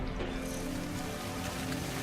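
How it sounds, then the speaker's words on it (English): Acid rain falls on a mushroom world in No Man's Sky, a steady, close patter of drops over a constant low ambient drone with no break. "Acid rain."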